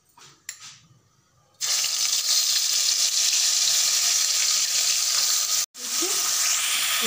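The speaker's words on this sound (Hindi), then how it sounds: "इसको हल्का सा हम भून लेंगे" Masala spices fry lightly in hot oil with bay leaf in a pan for palak paneer. A brief quiet opening gives way to a sudden loud, continuous sizzle, broken once by a short gap before it resumes.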